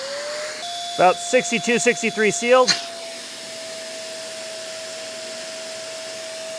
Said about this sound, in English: Let's test the Hoover.